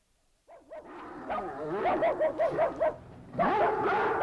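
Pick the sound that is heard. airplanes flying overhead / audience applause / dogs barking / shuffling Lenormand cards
dogs barking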